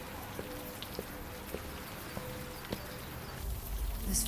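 Steady rain hisses across the scene in the detective game Old Skies, with soft periodic taps and drips at regular intervals, ending in a louder swell of noise.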